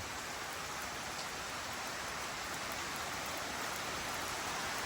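Steady rain falls continuously at a house construction site, an even, dense hiss of drops on leaves and surfaces with no voices.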